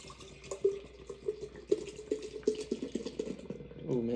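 Foster's beer pours from a can into a glass with uneven gurgling glugs and splashy bursts that come close and fairly loud, then rise into a bubbling, foamy fill near the end.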